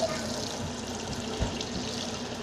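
Tap water runs over a spoon held under the faucet, spraying out like a small fountain, making a steady broadband splashing hiss throughout with a slight low thump midway.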